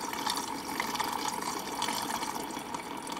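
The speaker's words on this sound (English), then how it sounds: "I'm gonna stir my paint up a little bit." Conductive paint being stirred in its container makes a soft, continuous wet swishing, steady and fairly quiet with no pauses.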